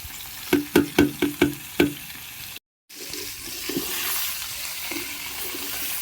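Bitter gourd fries in a large pan as ground curry leaves go in, with several sharp metallic scrapes and taps of a spoon, a brief dropout, then a steady sizzle that swells and continues.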